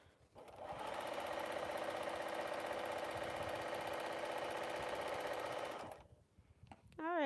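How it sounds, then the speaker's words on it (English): A sewing machine stitches a quilt strip in one steady, fast, close run of about five seconds, then stops, followed by a short quiet pause and brief handling noise. "I'm going to try to get right up on this, make it straight when I sew."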